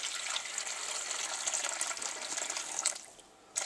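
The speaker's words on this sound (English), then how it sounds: "We're going to take half of our soup and pour it slowly" Chicken soup poured slowly from a pot into a bowl, a steady continuous liquid splash and trickle, close and fairly loud, tapering briefly near the end before resuming.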